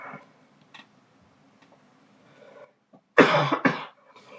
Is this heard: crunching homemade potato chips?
no